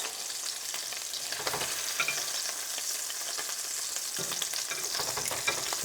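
Meatballs sizzle steadily in a hot pan while a utensil scrapes them loose from the bottom, a dense crackling fry with scattered scraping strokes and no voices.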